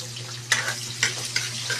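Garlic sautéing in a hot pan: a steady low sizzle with several sharp stirring scrapes and clinks at intervals, close and moderately loud, no talking.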